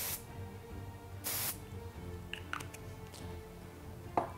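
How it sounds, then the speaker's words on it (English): Two short bursts of aerosol spray hiss, close by, separated by a pause, followed by faint handling clicks and rustles. "I've done the spraying here"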